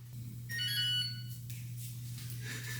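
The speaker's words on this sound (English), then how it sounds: "Every time I hear that beep, I'm like, oh, that's my reminder" A short electronic reminder beep of bright, steady tones sounds for under a second over a low, constant hum, then fades into quiet room noise.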